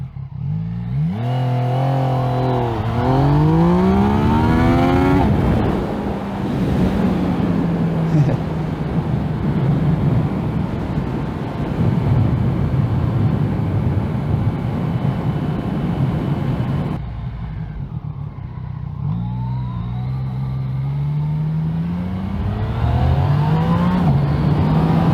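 A Yamaha MT-09 naked motorcycle accelerating hard from 0 to 100, its engine climbing through several rising gear sweeps with brief dips at each shift, loud and close amid wind rush, then easing off and pulling again near the end.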